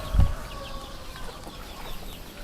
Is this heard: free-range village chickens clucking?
yes